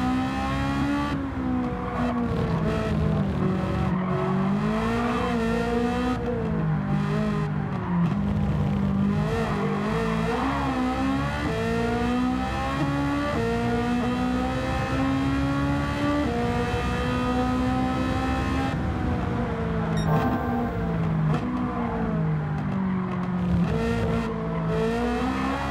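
A Ferrari 458 Italia Alonso Edition V8 engine races in Gran Turismo 7, revving high and loud through repeated upshifts and downshifts, with the pitch continually rising and falling over a long stretch and no talking.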